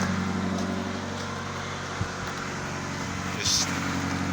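A 1997-01 Toyota Camry's 2.2 engine idles with a steady low hum and faint ticking. A person speaks briefly over it, and there are a few small clunks near the end.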